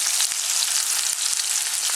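Meatballs brown in a hot pan, giving a loud, dense, continuous sizzle with a few faint clicks from the pan, close up and with no talk.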